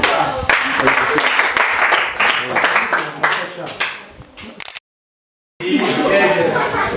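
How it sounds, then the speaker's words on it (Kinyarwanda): Applause from an audience at a farewell gathering for Messengers of Crust, heard as bursts of many hands clapping mixed with talking, broken by a brief silent gap before clapping and voices resume. "Kandi twakomera amashyi menshi cyane."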